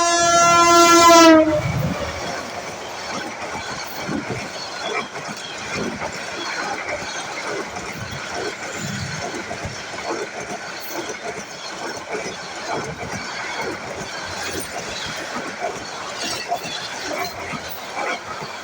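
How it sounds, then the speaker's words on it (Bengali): A train horn blasts loudly at the start, then a long rumble and rattle of railcars rolling past Amirganj railway station continues steadily with clickety-clack, no talk. "ইতিমধ্যে রেলগাড়ি গেছে।"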